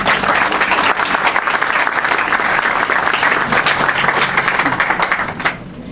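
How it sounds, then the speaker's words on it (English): Loud, dense applause from an audience welcoming Professor John Evans at an evening lecture, a sustained wash of many hands clapping evenly for about five seconds before tapering off. "Please give him a very loud round of applause."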